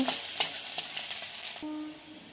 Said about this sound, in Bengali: পেঁয়াজ কুচি ভাজা ভাজা করে নেব।